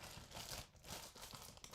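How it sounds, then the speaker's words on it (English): A plastic bag handled while working on a collectible figure, giving a faint, continuous crinkling and rustling with small bursts, very quiet and close with no talking. "we take a plastic bag"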